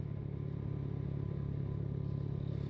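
A Yamaha Mio Sporty scooter fitted with a VND exhaust runs at low throttle, giving a steady, smooth, deep humming drone with a soft bassy tone and no revving peaks, heard close and alone.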